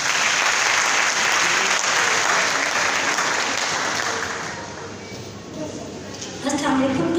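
Full, loud applause from an audience at a TV show for International Literacy Day, a dense steady roar of clapping that dips midway, then swells again briefly near the end.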